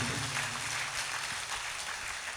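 A congregation at a church gathering applauds softly in the distance, giving a low steady wash of clapping throughout.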